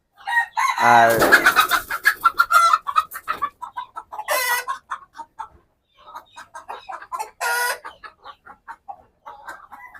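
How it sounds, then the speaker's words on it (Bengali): A naked-neck country hen going broody lets out a busy run of clucks and squawks, some sharp and loud, others quick and choppy, with brief pauses between bursts. A voice says a single word. "আমাদের এই গলাছিলা মুরগি যেটা আছে ওটাও এখন নতুন করে ওমে আসতেছে"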